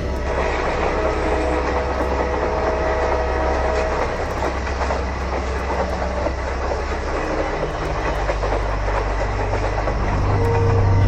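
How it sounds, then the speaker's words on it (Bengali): A train running on a railway line, a loud, steady rumble with rolling wheel clatter that swells slightly toward the end, close and continuous with no speech. "দূর থেকে ট্রেনের হর্নের শব্দ ভেসে আসছে। ট্রেন আসবে এক্ষুনি"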